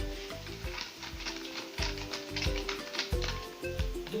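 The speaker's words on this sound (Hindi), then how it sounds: "अच्छी तरह से हम मिला लेंगे।" A spoon stirring coffee and sugar in warm water in a mug makes a quick, rhythmic scraping and clinking that is fairly soft and continuous, with no one speaking.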